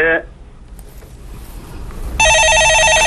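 A telephone ring sounds on a Korean stock-market call-in show just before the host picks up: a short tone at the very start, then a loud electronic ringing that sets in near the end over a room background.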